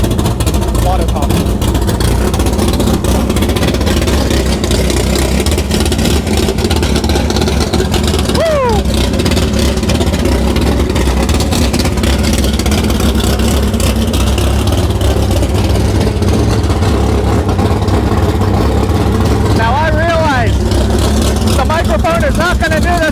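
A Camaro small-block V8 rumbles loudly and continuously with deep low-end throb and occasional revs, while someone talks over it throughout.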